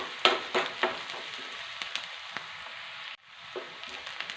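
Small onions fry in ghee and coconut oil for kalathappam: a steady crackling sizzle with a few sharper pops early on. It briefly drops away, then a softer sizzle returns.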